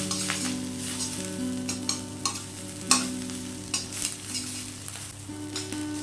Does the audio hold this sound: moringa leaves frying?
yes